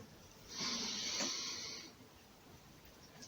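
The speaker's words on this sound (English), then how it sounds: "And now, closing exercise, breathing in." A single slow inhalation during a breathing exercise, a soft airy rush lasting just over a second, close and quiet in a hushed room.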